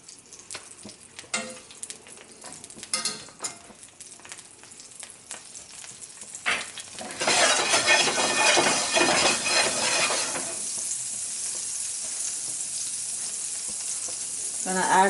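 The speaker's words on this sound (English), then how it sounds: "I'm gonna saute my veggies" Vegetables sauté in grapeseed oil and vegan butter with a loud, sustained sizzle that bursts in mid-clip after scattered clinks and handling noises, then settles to a steadier frying hiss.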